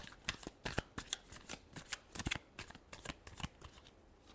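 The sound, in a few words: shuffling tarot cards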